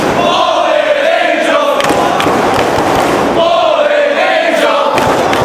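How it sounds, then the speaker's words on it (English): A wrestling crowd at a live event chants and cheers for Christopher Daniels in loud rhythmic waves that rise and fall, with a few thuds mixed in. "Crowd showing their support for Daniels"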